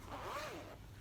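Zipper pulled along a fabric cross-stitch project bag, one quick, faint rasping zip lasting under a second.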